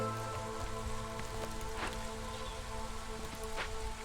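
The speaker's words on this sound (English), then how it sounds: "we are now in the drizzle" Drizzling rain in the video game Against the Storm makes a steady, soft patter and hiss that runs evenly throughout, with sustained musical tones underneath and no speech.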